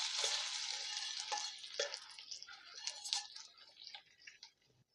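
Hot tempering poured into simmering gongura (sorrel leaf) dal sizzles loudly at first, a bright crackling hiss with a few pops and stirring clinks that gradually fades toward the end.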